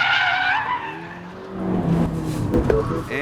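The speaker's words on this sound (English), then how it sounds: "Handbrake turn around the corner." A Mini Cooper S being driven hard through a handbrake turn on a test course, its tyres giving a close, loud skidding squeal over the engine note, with a voice faintly under it.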